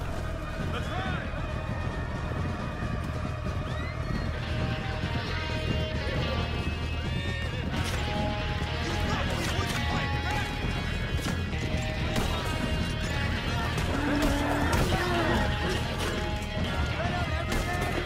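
Galloping horses with loud clip-clopping hooves and repeated whinnies in Red Dead Redemption 2, continuous and close, mixed with crashes, clanks and shouting voices in a busy ride scene.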